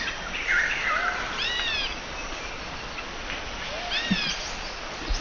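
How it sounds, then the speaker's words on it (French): Several birds sing outdoors, with repeated descending whistled phrases and chirps over a steady background of insect-like buzzing, moderately close and without any talk. "Bon, il y a des oiseaux."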